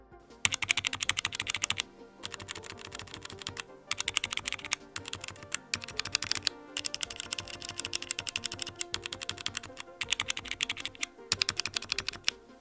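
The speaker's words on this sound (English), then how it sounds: "Razer have opted to go with their own silent yellow switches, although I found them far from totally silent." Typing on a Razer ProType Ultra keyboard with silent yellow switches, a close, soft but steady patter of keystrokes in quick runs broken by brief pauses, with nothing else heard.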